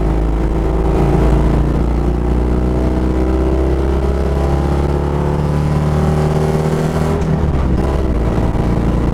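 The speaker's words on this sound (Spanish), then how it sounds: "que cualquiera diría que solo tiene 2 cilindros. Suena a moto, suena a BMW de carreras." A loud, close two-cylinder Citroën Dyane 6 race car engine revs and accelerates, its pitch climbing steadily with a gruff, throbbing note before easing off near the end.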